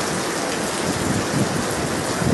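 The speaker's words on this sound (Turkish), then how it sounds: "çok yağmur yağıyor" Heavy rain pours down in Göle, Ardahan, a dense, loud, unbroken hiss of water striking surfaces close by, with no voices over it.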